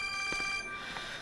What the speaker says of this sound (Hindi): मैं जल्दी से ये फोन सुनकर आती हूँ